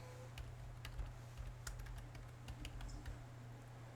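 Computer keyboard typing, a quick run of light, faint key clicks over a steady low background hum.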